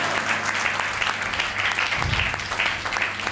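A church congregation at a New Year watch night service claps loudly and continuously, a dense rattling wave of many hands with a steady pulse, with a faint murmur of voices beneath.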